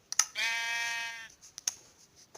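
A sheep in Minecraft gives a single clear, nasal bleat lasting about a second, bracketed by a few sharp clicks and taps in an otherwise quiet game scene.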